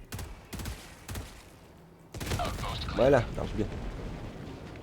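Grenade blasts in Helldivers 2 give a few sharp thumps early, then a louder rumbling burst, while someone speaks French over the noise.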